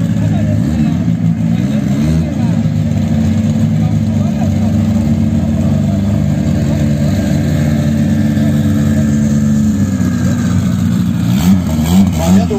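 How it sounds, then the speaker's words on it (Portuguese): A drag race car does a burnout at a no-prep drag event to warm and clean its tires, a loud sustained low engine roar with fluctuating revs heard up close, with voices underneath. "Fazendo aquecimento e a limpeza dos pneus."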